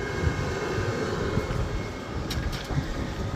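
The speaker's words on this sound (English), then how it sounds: "Pardon the wind." Steady, heavy wind buffeting an outdoor microphone, a continuous low rumble with gusty swells and no voices.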